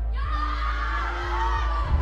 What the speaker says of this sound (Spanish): Ya gritaron menos que la primera vez.